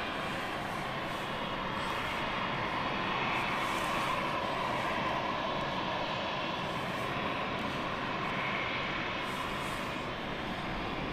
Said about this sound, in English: Inbound from Berlin, City Flyer, Embraer.